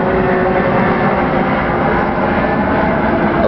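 A low-flying airplane passes overhead just below an airport, producing a loud, steady broadband roar that fills the whole stretch without letup.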